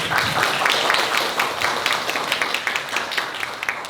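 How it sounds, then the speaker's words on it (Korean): Steady applause from an audience at a welfare center presentation, dense overlapping claps at an even level that thins slightly toward the end. "뜨거운 박수 부탁드립니다."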